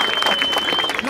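Crowd applause and cheering at a freestyle rap battle semifinal, a dense, steady wash of clapping and noise lasting about a second, with voices mixed into the din.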